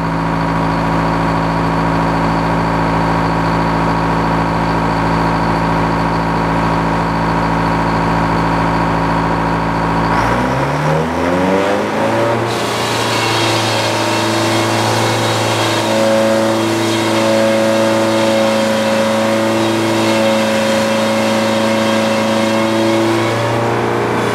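A sawmill cuts into a white pine log: a loud, steady engine drone that drops and strains as the blade bites into the wood about midway, then holds a heavy, busy cutting roar.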